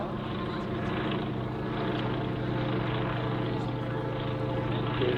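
Westland Lysander aircraft flying low and slow at Aero Gatineau 2022, a steady, fairly quiet propeller drone with a broad hum that holds even across the whole stretch.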